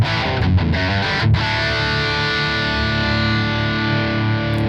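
Electric guitar played through a NAM enhancer set to body, heard alone as a loud, distorted, sustained tone with a few picked notes at the start ringing out into a long held chord.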